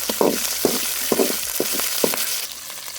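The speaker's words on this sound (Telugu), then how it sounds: "పచ్చిమిరకాయ వేసుకుందాం." Green chillies sizzle in hot oil with cumin and curry leaves while a chickpea masala is cooked, a steady close frying hiss broken by several sharp bursts of spatter and stirring clatter.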